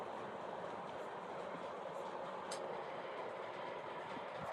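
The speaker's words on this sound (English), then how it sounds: "One nickel plate road passenger train." A Nickel Plate Road model passenger train running along its track, a steady rolling rumble with faint rail clicks, continuous and fairly quiet throughout, with no talk.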